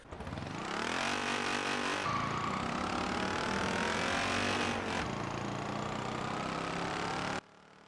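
A tiny Peel P50 car accelerates in the racing video game Forza Horizon 4, its small engine droning and climbing steadily in pitch with a couple of gear shifts, loud and continuous before cutting off abruptly.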